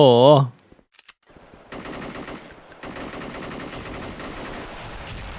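Rapid automatic gunfire in the mobile shooter SF Mobile, sustained bursts of close shots after a short electronic tone and a few scattered clicks.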